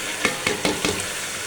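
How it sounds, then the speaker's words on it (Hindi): Leftover aloo matar curry goes into a sizzling pot of rice: a soft steady sizzle broken by a few quick stirring scrapes, close and fairly quiet. "अब हम डालते हैं सालन जो आलू मटर इसके अंदर।"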